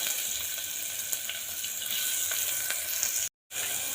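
Onions sizzle and crackle steadily in a hot pan, close up, with a brief silent gap near the end.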